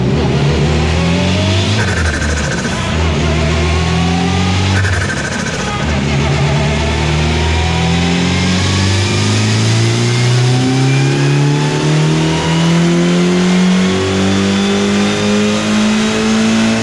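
A tuned car engine revs hard under turbo boost during a speed test run, climbing in pitch through several gear shifts with a loud, close, aggressive roar throughout.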